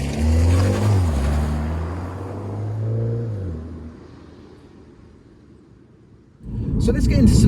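A 2020 Mini John Cooper Works Clubman engine revs and rumbles as it accelerates through the gears, pitch rising then falling away, before the sound drops to a quiet cabin hum and a loud burst returns at the end.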